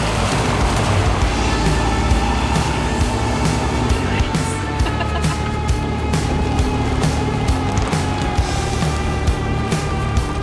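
A 4x4 vehicle fording a river in Costa Rica, with a dense, steady rumble of engine and rushing, churning water filling the scene, loud and close throughout, no voices.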